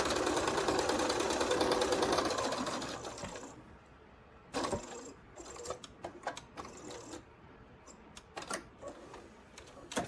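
A sewing machine runs fast in a steady whirring burst while stitching a quilt block seam, then stops; scattered clicks, thumps and rustling of fabric handling follow.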